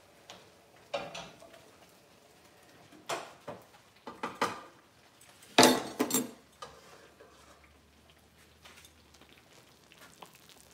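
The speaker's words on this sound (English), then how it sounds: "let me stir it up real good" A spoon stirs roux into a cobbler in a pot, giving scattered, uneven clicks and scrapes with one louder cluster of knocks midway. The sound is quiet and close, with no talking.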